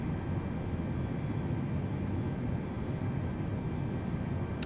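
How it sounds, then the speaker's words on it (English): An A32NX airliner jet engine spools up during start in Microsoft Flight Simulator 2020, a steady, fairly quiet broadband roar with a faint whine that holds throughout. "You can hear the engine starting going on now."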